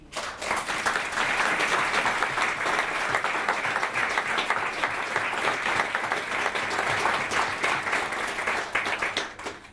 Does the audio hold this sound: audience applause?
yes